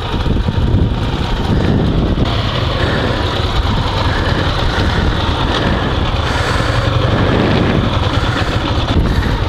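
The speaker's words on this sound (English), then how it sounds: "Let's start. But it starts well." A sidecar motorcycle engine runs in a loud, steady close-up rumble, blended with heavy wind buffeting on the microphone, no speech.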